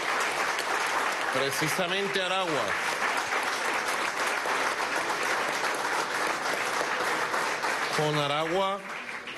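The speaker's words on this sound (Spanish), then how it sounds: "de aquí le damos un aplauso y la felicitación" Sustained audience applause at a hospital inauguration in El Furrial, rolling steadily throughout the clip while someone speaks over it through a loudspeaker.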